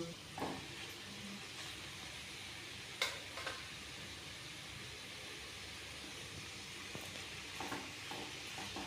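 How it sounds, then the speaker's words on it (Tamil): Rice and capsicum sautéing in a pan for a carrot rice dish, a low steady sizzle with scattered stirring scrapes and clinks throughout, close and moderately quiet, no talking. "கேப்சிகம் போட்டுட்டு ஒரு டூ மினிட்ஸ் லைட்டாக வதக்குனா போதும்"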